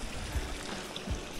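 A mountain stream in the Alps rushes with a steady, broad hiss of flowing water, close by and constant, with a couple of low thumps.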